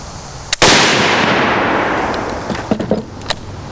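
A gunshot fired with old, corroded military surplus ammunition: one loud, sharp bang with a long rolling decay outdoors, preceded by a small pop and followed by several faint clicks and knocks.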